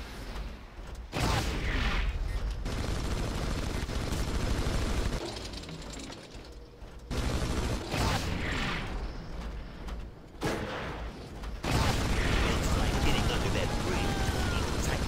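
A battle mech fires heavy weapons in Red Faction 2: loud, dense bursts of rattling gunfire and booms come in long volleys with short gaps, and a voice talks in between.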